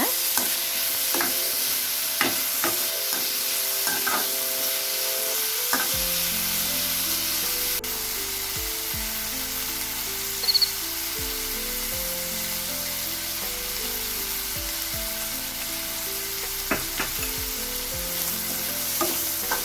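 Potato masala with freshly added chopped tomato and salt being stirred in a frying pan, a continuous low scraping and sizzling with intermittent spoon clicks against the pan, heard alone without talk.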